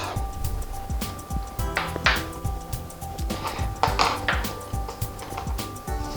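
Cinnamon and sugar are stirred together in a bowl for beaver tail pastries, with a utensil tapping, scraping and clinking irregularly against the dish, close and fairly clear.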